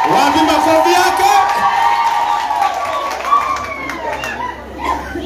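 A church crowd claps and cheers loudly, with shouts and chatter mixed in. A voice talks over the applause, which stays steady and close throughout.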